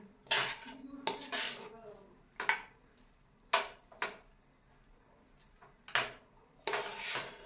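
Metal utensil clattering and scraping against a pan while chapati cheese noodles are stir-fried, a series of sharp clinks and scrapes in irregular bursts, close and fairly loud, with no talk.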